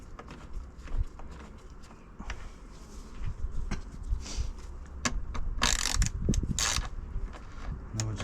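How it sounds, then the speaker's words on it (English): Small metallic ratcheting clicks and scrapes as an Allen key tightens a screw holding a motorbike airbox in place, close by with irregular rhythm and a brief louder rattle midway. "Little Allen key going down there."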